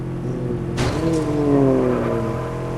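Car speeding in the mobile game MadOut 2, a loud engine revving up with a sliding pitch that climbs and settles into a sustained high drone, with no talking over it.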